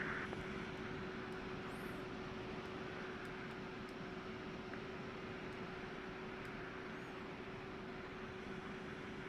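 A Boeing 757 airliner in the X-Plane 12 flight simulator passes with a steady, broad jet engine roar, a constant moderate drone with no talk over it.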